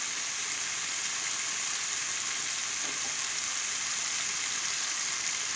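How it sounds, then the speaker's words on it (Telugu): Tomatoes frying in hot oil in a pan give off a steady, dense sizzle throughout, close and even, with no voices. "ఆయిల్లో టమాటాలన్నీ ఫ్రై అవుతాయి"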